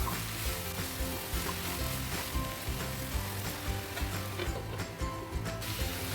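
Bottle gourd sabzi cooking in a pan, a soft, constant sizzle with a low, faint hum underneath and occasional stirring scrapes.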